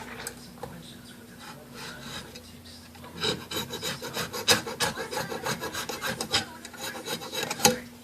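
A tool rasps repeatedly across the surface of a Panasonic CF-29 laptop touchscreen, scraping off adhesive residue in quick strokes that grow louder and more rhythmic after a quieter start.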